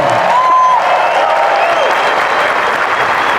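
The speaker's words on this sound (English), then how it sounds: "Let's clap it up for these two" An audience applauds steadily and loudly throughout, a dense wash of clapping from a crowd that holds its level without fading.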